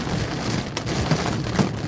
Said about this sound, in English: I do hear hail hitting my windshield.